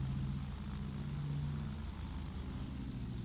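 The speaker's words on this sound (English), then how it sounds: "Do some high-speed taxiing." A propeller aircraft taxiing at high speed in a flight simulator game gives a steady, droning engine hum with a low buzzing tone, loud and unbroken throughout, with no voices.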